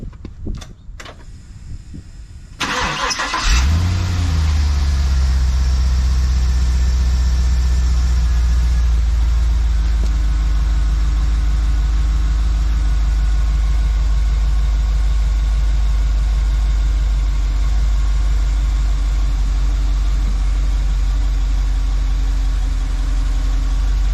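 An Isuzu NPR truck engine starts with a thump after a few quiet seconds, then settles into a steady, loud, low diesel idle that runs on evenly with no talk.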